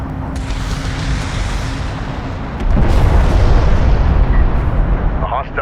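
A hostile turret blows up in the desert strategy game Homeworld: Deserts of Kharak, a loud rumbling blast that swells midway into a sustained roar over constant battle noise, with no talking.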